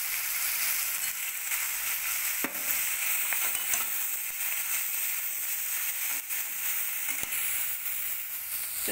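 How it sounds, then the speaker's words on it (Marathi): Karadi (safflower) greens are stir-fried in hot oil, giving a soft continuous sizzle broken by occasional scrapes and taps of a spoon against the pan. "तेलामध्ये 2 मिनिट भाजी आपल्याला अशी परतून घ्यायची आहे।"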